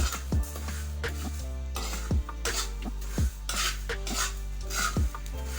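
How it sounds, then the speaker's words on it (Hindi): Fennel seeds being dry roasted on a hot tava over low flame, stirred with a utensil that scrapes and knocks against the griddle in repeated clinks, close and clear with a faint sizzle beneath and no talking. "तो हम इसको तवे पे बिरिया कर लेंगे। हल्का हल्का सा भून लेंगे इसको।"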